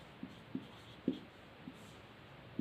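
Pen strokes on paper while an answer to a class 10 math problem is written out: a few faint, sparse scratchy taps spaced irregularly over a quiet background, no talking.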